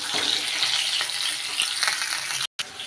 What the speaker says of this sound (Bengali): এইভাবেই একে একে আমি বাকি মাছ দুটো ভেজে নেব।